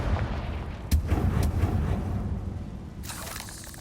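A Confringo fire spell bursts in Hogwarts Legacy, a sharp explosive crack followed by a rumbling, crackling roar and a second blast near the end, loud and full with no talk.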